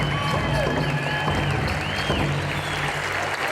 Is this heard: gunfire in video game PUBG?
no